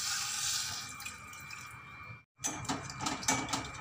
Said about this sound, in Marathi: त्यानंतर टाकते पाणी.